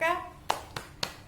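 A school class does the rhythmic PPK clap in an Indonesian classroom: four sharp, close group claps spaced about a quarter second apart, with voices heard alongside.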